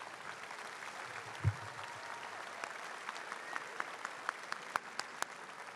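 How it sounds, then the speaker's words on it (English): Parents and guardians applaud the class of 2021 at a high school graduation, a broad wash of distant clapping from a large crowd, with a few sharper individual claps standing out toward the end. "let's give the class of 2021 a round of applause for these impressive accomplishments"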